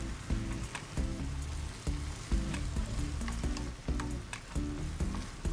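Steamed bun filling is stir-fried in a pan, with loud, continuous sizzling and rhythmic scraping strokes repeating about every half second, close up and without speech.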